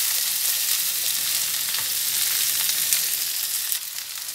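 Sliced okra (bhindi) sizzles steadily in a pan over a low flame while being stirred, producing a dense, continuous frying hiss with faint scraping bumps from the stirring.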